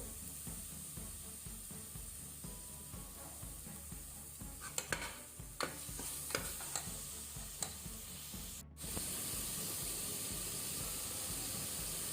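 Masala for pork curry fries in a pan with a steady close sizzle and hiss, broken by scraping stirs in the middle before the sizzle swells louder and more even.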